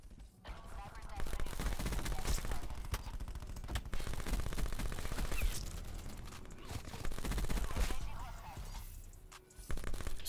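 Rapid automatic gunfire from the Call of Duty Black Ops 4 multiplayer video game, dense continuous bursts and shots running nearly the whole time at steady loudness, with talk mixed in.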